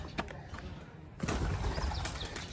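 Pigeons coo faintly inside an old haveli near Lahore, a soft, brief low murmur in a quiet, echoing space, rising slightly toward the end.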